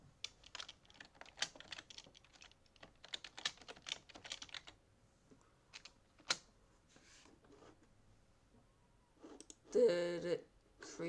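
Someone types a name on a computer keyboard while installing Windows 1.0, with bursts of quick, close key clicks in irregular runs and pauses, then a louder mechanical whir near the end.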